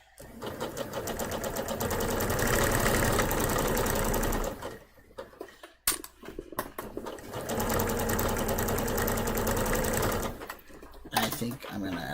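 A sewing machine stitches a project in long steady runs of rapid mechanical whirring, pausing briefly with a few clicks before starting again, close and clear.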